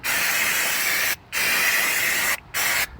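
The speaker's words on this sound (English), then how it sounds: "then we give it a bit of a spray with some brake cleaner" Brake cleaner sprayed in three bursts onto car brake parts during a disc and pad job on a Citroen C1, a long hissing blast, a pause, then two shorter ones, loud and close.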